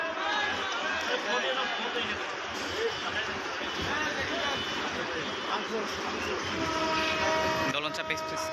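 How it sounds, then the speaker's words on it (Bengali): The Dolonchapa Express pulls out of the station at Parbatipur with a steady rail rumble and a horn, under heavy crowd chatter on the platform. "দোলনচাঁপ এক্সপ্রেস ট্রেন এখন ছেড়ে দিচ্ছে মনে হচ্ছে"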